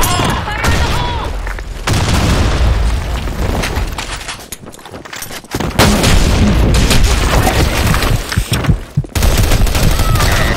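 Grenade blasts and rapid gunfire in a video game battle, loud and continuous, with heavy booms and bursts of automatic fire packed densely throughout, briefly easing midway before surging back.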